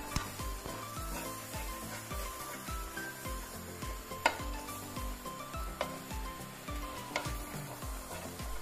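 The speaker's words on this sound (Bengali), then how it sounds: "এখন কিছুক্ষণ নেড়েচেড়ে নিব।" A spoon stirs traditional Bangladeshi rice payesh in a pot in soft rhythmic scrapes with a faint bubbling simmer. It is quiet and close, with occasional light knocks against the pot.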